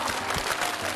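Audience applause bursts out at a comedy performance on a TV variety stage, a dense, even wash of clapping heard briefly and close, without voices on top.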